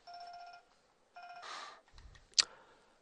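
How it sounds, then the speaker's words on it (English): A cell phone rings nearby with two short bursts of a repeating electronic ringtone, followed by some handling noise and a sharp click, with no one talking. "I should mute my cell phone when I'm doing these"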